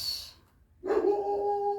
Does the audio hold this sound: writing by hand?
no